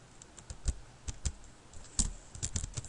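A computer keyboard clatters with quick, irregular keystrokes, clustered bursts of clicks at moderate distance, fairly quiet, with no voices over the typing.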